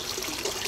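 Water from a pipe pours into the floating bed of a small homemade aquaponics system, a soft, steady trickling splash, close by and fairly quiet, heard on its own.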